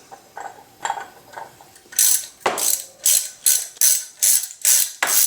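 A hand ratchet tightens the 10mm bolts on a BMW E36 thermostat housing. A few soft clicks are followed by about eight loud, evenly spaced ratcheting bursts close up.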